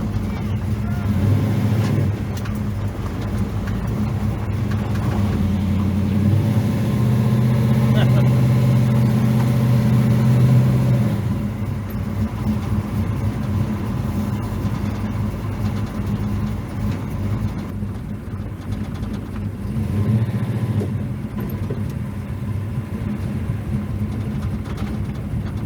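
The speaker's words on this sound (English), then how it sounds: "that was my handy dandy assistant pulling that tractor down the road" A tractor being towed down a road gives a continuous low engine and rolling drone, with a steady heavy hum throughout and a louder rumbling swell partway through, while voices talk over it.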